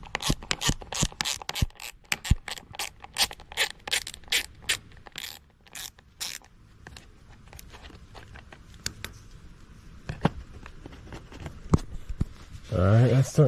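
Ratcheting tool loosening a bolt on plastic interior trim of a 2019 Hellcat, giving rapid close clicking bursts that slow to sparse clicks, with scraping near the end.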